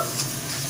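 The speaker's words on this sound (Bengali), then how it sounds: "মশলাটাকে একটু ভাজা ভাজা হতে দিচ্ছি" Mustard paste with a little turmeric fries in a pan for kachchi hilsa, giving a steady, close sizzle with light stirring throughout.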